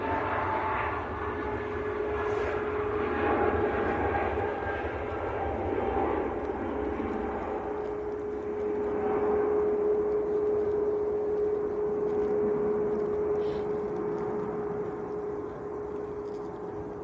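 A Scandinavian Airlines Airbus A320neo rolls out at Manchester Airport bound for Oslo. Its jet engines give a moderate, continuous whine and rumble with a sustained tone, heard from some distance with no talk over it.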